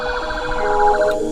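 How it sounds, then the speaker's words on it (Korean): A police car siren wails continuously with a steady, repeating warble, loud and close, heard on its own without talk. "경찰차 소리 존나 나네"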